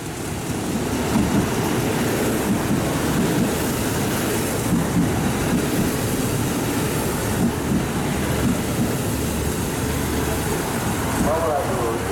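A JR Central KiHa 25 diesel railcar rolls into a station on a special rapid service, its steady engine and wheel rumble filling the platform, with wheel squeal and a station announcement voice heard over it.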